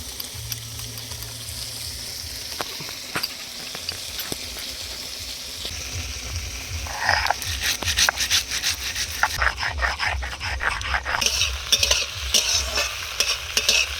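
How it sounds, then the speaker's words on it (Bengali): Okra (bhindi) fries in hot oil for a mustard dish. Steady sizzling runs under repeated clinks and scrapes of a spatula, and the crackle grows louder and busier in the second half. No one speaks. "এদিকে ভিন্ডি ভাজা হয়ে গেছে তুলে নেবো"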